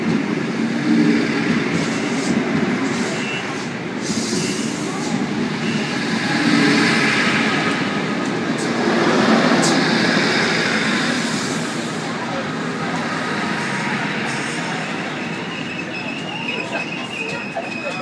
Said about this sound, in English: This is a Waratah departing platform 4A94 for a Central via Macquarie Park service.